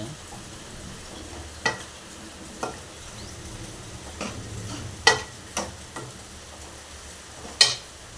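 A spoon stirs a dal and mixed-greens curry in a pan, giving a soft sizzle with several sharp scraping clinks at irregular intervals, fairly quiet and close.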